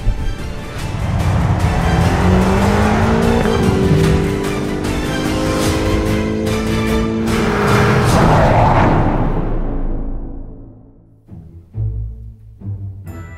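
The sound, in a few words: twin-turbo V8 car engine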